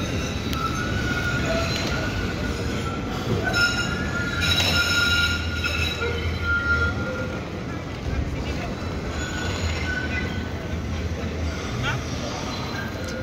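A City Runner tram on line 17 of the Geneva TPG network runs steadily with continuous rail rumble, wheel noise and occasional squeal, with people talking over it.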